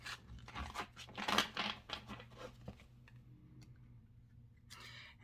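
Tarot card deck being shuffled by hand, a burst of quick riffling card flicks and taps close up, then quieter, sparser handling clicks with a brief flurry at the end.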